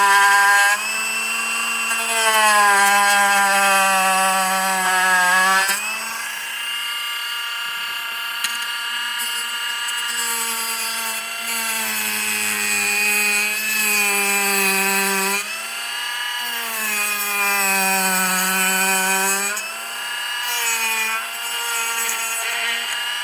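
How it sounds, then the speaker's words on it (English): A Dremel sanding drum grinds an RC gearbox part in bursts, its high whine dipping in pitch under load and recovering, close and loud with brief pauses between passes. "essentially just take your sanding drum on a Dremel"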